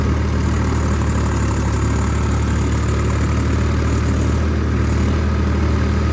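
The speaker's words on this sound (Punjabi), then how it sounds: "ਵਧੀਆ ਚੱਲੀ ਜਾਂਦਾ ਟਰੈਕਟਰ ਦੂਜੇ ਗੇਅਰ 'ਚ" A tractor engine runs steadily in second gear out in the farm fields, a loud, continuous low diesel throb with constant vibration and no voices.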